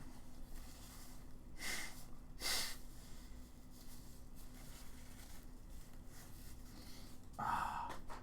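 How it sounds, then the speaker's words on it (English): Two short, forceful nasal blows close to the mic, then a quieter stretch and a final snorting honk, over a low steady hum. "Let me actually quickly blow my nose."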